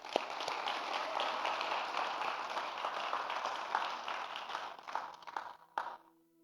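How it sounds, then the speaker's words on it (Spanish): A church congregation gives the fathers a strong round of applause, dense and sustained clapping filling the room for about six seconds before cutting off abruptly. "le podemos dar un fuerte aplauso a todos los papás"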